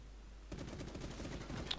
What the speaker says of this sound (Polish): Już widział chyba skąd strzały dochodzą